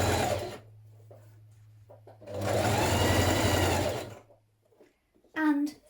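A sewing machine stitches a dress seam in a short, close, whirring run of about two seconds, with a low motor hum beforehand and a voice speaking briefly before and after.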